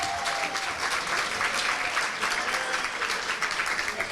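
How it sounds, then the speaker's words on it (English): Sustained audience applause fills the room at a chamber of commerce awards event, a dense, even wash of many hands clapping with no voices over it. "let's give everyone of the committee a big round of applause"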